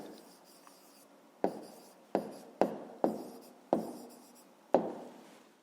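Pen or marker strokes on paper or board as a handwritten answer is written, about seven short scratchy strokes in an uneven rhythm, close and clear with no talking.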